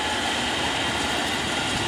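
Striped KRL commuter train rolling past near a former depot at Jatinegara on double track, a dense, loud, continuous rush of wheels and carriage rumble filling the whole moment without pause.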